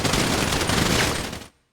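Dense, rapid automatic gunfire in a GTA FiveM turf-war shootout, one loud continuous volley of about a second and a half that cuts off abruptly into silence.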